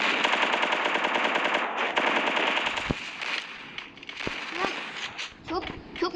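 Rapid machine-gun bursts and single gunshots from a video game, dense and loud at first and then thinning into scattered shots, with a player's voice speaking over the gunfire.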